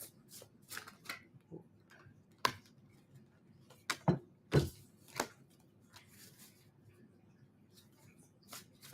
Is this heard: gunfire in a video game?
no